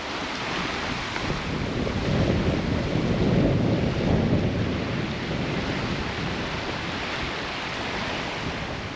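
Strong wind roars steadily outdoors by a lake with barbecues and boating facilities, buffeting the microphone in a loud, continuous rush that swells midway and settles again, with no voices.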